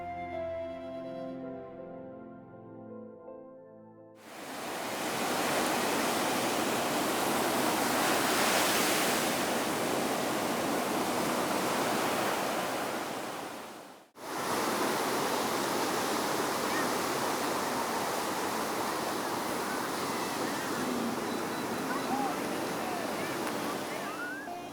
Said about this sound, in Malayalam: ആഞ്ഞടിക്കുന്ന തിരമാലകൾക്കിടയിൽ തകർന്നുപോയ കടൽപ്പാലത്തിൻ്റെ തൂണുകൾ